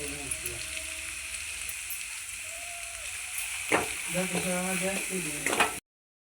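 Grated coconut, garlic and coriander roasting in a pan, a low steady frying hiss, then a sharp scrape at about four seconds and a few spatula stirs near the end before it cuts to silence.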